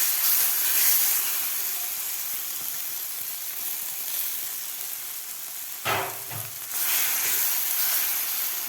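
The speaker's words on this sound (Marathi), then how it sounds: "आता यामध्ये घालायचे आपल्याला आता हे टोमॅटोची प्युरी परतून घेतलेली." Tomato puree sautéing in a pan for tomato chutney, giving a steady loud sizzle and hiss throughout, with a brief stir-like disturbance midway before the frying noise settles back.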